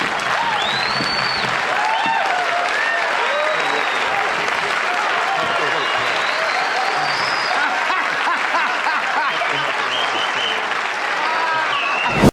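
A comedy club audience greets comedian Rodney Dangerfield with sustained loud applause and cheering, a dense crowd roar with scattered whistles and whoops that holds steady for over twelve seconds before cutting off.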